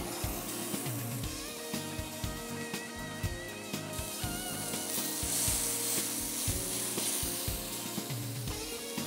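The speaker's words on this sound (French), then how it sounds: "je vais poêler ce steak" Steak pan-frying in Colonnata lard, a moderate close sizzle with intermittent clicks and knocks of handling, growing a little louder midway.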